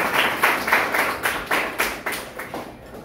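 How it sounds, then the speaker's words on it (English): An audience gives a round of applause at a school research colloquium, a steady run of hand claps with regular bursts of clapping lasting about three seconds, fading slightly toward the end. "A round of applause for Sir."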